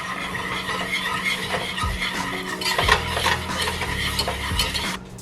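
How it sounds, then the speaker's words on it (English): Sugar being whisked vigorously in a pan for toffee, with rapid clinking and scraping of the whisk over a faint sizzle, close and continuous, no talking. "It says to whisk vigorously."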